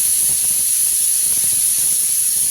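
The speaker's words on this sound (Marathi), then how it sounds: "तर बघा कुकरची शिट्टी झाली" A pressure cooker whistle venting steam, a loud, close, unbroken hissing rush with a high piercing tone running throughout, no talking.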